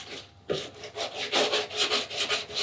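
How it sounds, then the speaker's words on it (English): Wet sanding of surfboard resin with superfine 180-grit sandpaper, a steady run of rhythmic rubbing strokes, close and fairly loud, each stroke a soft gritty swish with no talking. "we use superfine sandpaper to wet rub it"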